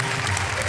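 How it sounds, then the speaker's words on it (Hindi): Brief burst of audience applause for a poet at a comedy poetry show, a dense continuous wash of many hands clapping, loud and close. "तो भाई जरा अपरा मेहता के लिए तालियां हो जाए भाई"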